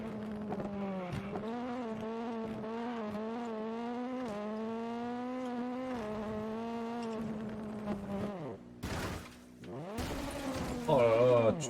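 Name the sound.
rally car driving and tire squeal in WRC 9 video game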